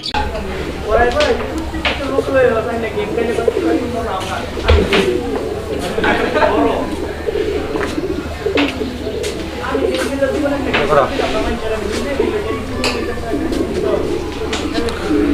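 Soft, repeated pigeon cooing close by, with a person talking over much of it.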